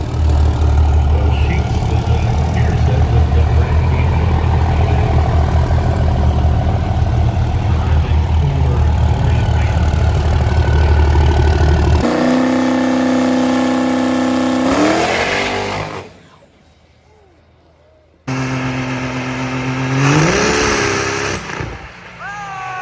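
A diesel truck engine roars loudly at high revs on a dyno for a long stretch, then a couple of sharp revving climbs follow, dropping briefly to near quiet between them.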